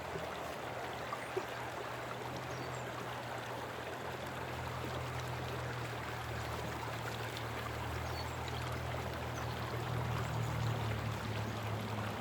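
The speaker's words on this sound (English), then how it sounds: "water now is squirting over areas where it didn't squirt. That's why that blue bowl is getting so much water right now." Water rushes steadily through a gold mining sluice in Colorado, spilling into a blue bowl, a continuous close hiss and gurgle with an even level and no voices.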